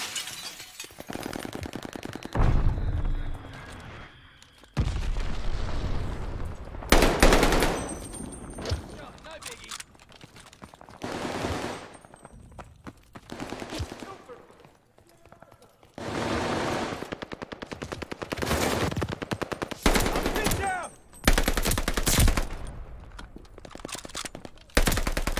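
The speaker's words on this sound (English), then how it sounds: "Tossing grenade." Call of Duty Vanguard gameplay: repeated bursts of automatic gunfire and loud blasts, including a grenade explosion, come in waves over about 25 seconds. Player voices talk over the fighting at times.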